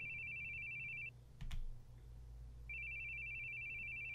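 A telephone rings in long, steady electronic bursts, with a short knock or thud in the pause between two rings; no one speaks.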